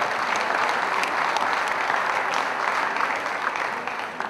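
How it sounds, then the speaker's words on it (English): Loud, dense applause from a fight-event crowd fills the space steadily, easing off slightly toward the end. "Ladies and gentlemen, a round of applause."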